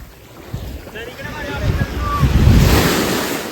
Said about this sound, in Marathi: तर गाईज आता आम्ही वायंगानी बीचला आलेलो आहे. एकदम सायलेंट बीच आहे